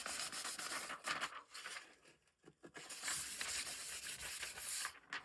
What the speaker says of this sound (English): Burnish this side as well.